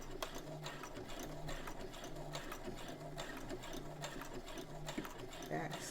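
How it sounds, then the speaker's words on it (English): A sewing machine runs in short bursts while stitching a dress collar, making a few small stitches and back stitches, its motor whir steady and close beneath a person talking. "presser foot down and stitch right there as well"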